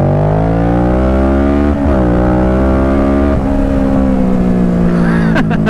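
A Kawasaki Z650 motorcycle engine revs hard and accelerates, rising and dropping in pitch through gear changes, loud and close throughout, with a brief sharper flourish at the end.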